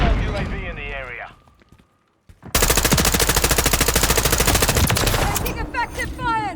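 Rapid machine gun fire in a first-person shooter game bursts in loud and sustained after a short pause, with game voice callouts before and after the shooting.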